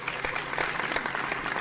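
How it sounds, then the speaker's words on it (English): A church congregation breaks into a round of applause for a newly introduced member, dense steady clapping that holds at an even level throughout without voices on top. "Parishioners, give a round of applause for Overseer of the Damned."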